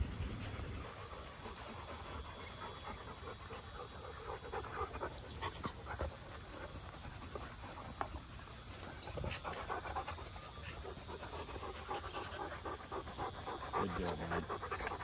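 A dingo pants rapidly and steadily up close for about fifteen seconds, with quick rhythmic breaths and a few soft whimpers near the end.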